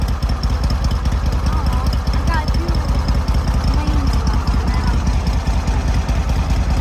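Riding lawnmower engine running steadily with a loud, rapid idling putter close by, while a person talks over it.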